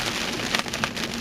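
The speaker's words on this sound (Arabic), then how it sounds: "قوة مطر يا شاب، مطر،" Heavy rain pours down on a road during a thunderstorm, making a dense, constant hiss and patter that sounds close and loud, with no voices.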